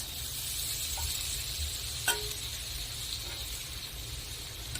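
Fried snail meat and fried potatoes hitting oil-rich cooked masala in a pan give a steady, close sizzle with a faint hiss throughout, broken by one sharp clink of a utensil partway through; no one speaks.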